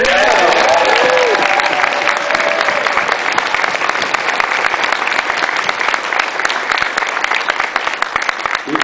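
Audience applause at a Dragon*Con 2008 convention panel for MST3K and Cinematic Titanic fills the whole span as loud, dense, continuous clapping, with a few cheers and a brief voice at the start.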